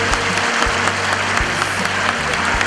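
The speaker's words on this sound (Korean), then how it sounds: "뜨거운 박수로 우리 선교사님을 맞이하도록 하겠습니다" A large church audience filling a packed hall bursts into sustained, dense applause to welcome a missionary, loud and continuous throughout, with a low hum of voices beneath.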